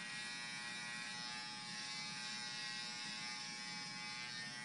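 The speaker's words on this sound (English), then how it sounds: "You want to make sure that the trimmer that you're using, being this Hero right here, takes out all those little stubs." Wahl Hero trimmer running steadily as a barber edges a haircut, a continuous high electric buzz held at an even level throughout with no talking.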